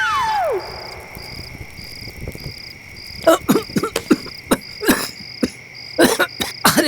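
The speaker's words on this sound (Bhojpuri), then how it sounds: "खांसी उठल बा" Several sharp, raspy coughs burst out in the second half, closely spaced and fairly near, over a steady background of chirping insects or crickets with a faint tonal drone.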